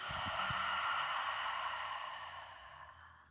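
A slow, deep exhale follows a held breath during a yoga relaxation, a soft breathy rush close to the mic that fades gradually over about three seconds, with no talking.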